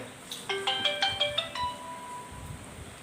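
A phone ringtone plays alone, a quick sequence of bright electronic melodic notes followed by a longer sustained tone that fades, with faint background noise.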